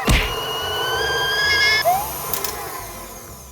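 An electric hand mixer whips three egg whites in a home kitchen, giving a steady, loud motorized whir with a high whine that shifts pitch partway through and runs continuously for the whole stretch.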